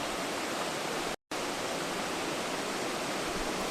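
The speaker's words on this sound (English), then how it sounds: "I passed long, cascading, boulder-strewn sections of the creek" Water rushes down a long, cascading, boulder-strewn mountain creek on the Ramsey Cascades trail in a steady, roaring hiss, cut off for a split second partway through. There are no voices.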